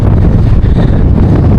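Strong seashore wind roars steadily into the microphone, a loud, dense rumble with no pauses.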